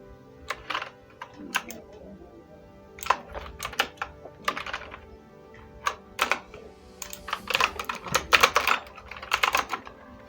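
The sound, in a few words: typing on a computer keyboard in Photoshop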